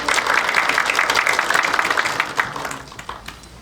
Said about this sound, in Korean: 박수로 맞으십시오